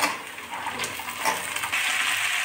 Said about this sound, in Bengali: এবার আমি কুচি কুচি করে কেটে রাখা ধুয়ে নিয়েছি এই যে শিম, গাজর আর আলু এই পেঁয়াজ ভাজির ভিতর দিয়ে দিচ্ছি